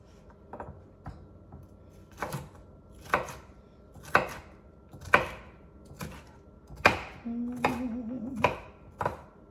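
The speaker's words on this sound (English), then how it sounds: "Let me cut up my green pepper." A knife chops green pepper on a cutting board in a slow series of about a dozen crisp, separate knocks, close and fairly quiet, with no talking.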